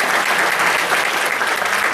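Audience applause in honour of French-language teachers, dense and steady clapping from a crowd that fills the whole stretch at an even, loud level.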